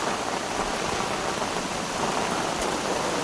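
Steady first monsoon rain falling in the Konkan, a dense even hiss with faint patter of drops, continuous and unbroken.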